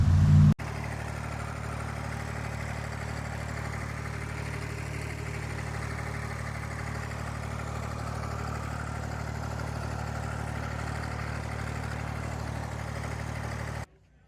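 A restored Massey Ferguson 35 diesel tractor idles steadily nearby, its low, even rumble holding for about thirteen seconds after a brief loud thump at the start, then cutting off abruptly.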